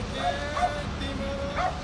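Specially trained dogs yip and bark at sea lions trying to haul out onto a harbour shore, a few short barks spaced through the stretch over steady background noise.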